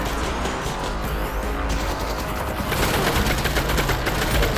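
Sustained, loud automatic gunfire from weapons in the video game Half-Life: Alyx, dense rapid bursts continuing without pause and intensifying toward the end.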